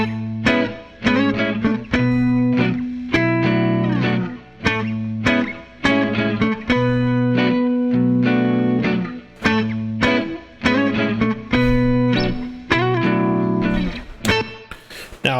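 Electric guitar played through a Line 6 Helix with the reverb muted, dry distorted chords and picked notes in short repeated phrases with choppy stops and quick gaps, loud and up close with no voices.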